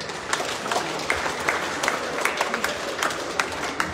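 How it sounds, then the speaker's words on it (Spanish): A school audience at the opening of the school year in Chilete applauds a security guard, with steady dense clapping from a crowd filling the few seconds, fairly close and lively. "Un aplauso para el señor Agustín Namor Preter."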